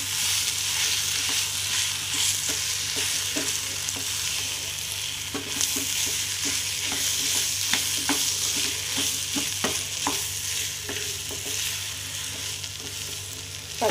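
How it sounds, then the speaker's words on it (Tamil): Mashed potato being stirred in a hot frying pan: a constant low sizzle with quick, irregular spatula taps and scrapes against the metal, close up and without talk. "இதை வந்து நல்லா கிளறி விட்டுலாம்."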